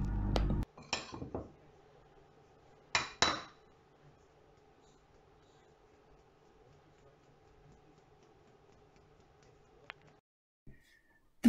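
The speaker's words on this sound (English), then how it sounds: "Using a tablespoon, place the flour into the sieve and sieve onto a plate." Flour being spooned into a metal sieve with a tablespoon and sifted onto a plate: a few sharp clinks and taps of spoon against sieve rim in short bursts, then a long quiet stretch of soft shaking, with a couple of light knocks near the end.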